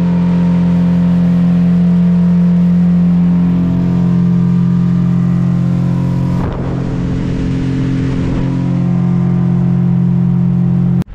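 Speedboat engine on Patratu lake, a loud steady motor drone running throughout, with a surge of rushing water and wind noise midway before the engine tone settles again.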